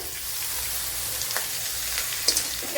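Sliced onions for chickpea curry fry in a pan with a steady, close hiss of sizzling oil and a few faint clinks near the end, no talking.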